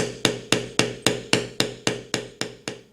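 A beveling tool struck into a leather feather carving with a hammer, eleven sharp, evenly spaced knocks about a quarter second apart, each decaying quickly, close and loud with nothing else heard.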